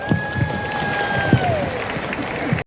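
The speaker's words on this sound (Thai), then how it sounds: "ขอเสียงปรบมือดังๆอีกครั้งหนึ่งครั บ" Audience applause at the Eastern Week 2024 fair in Sa Kaeo, Thailand, a steady patter of clapping from a crowd with a sustained sung or shouted tone and voices running over it, ending abruptly.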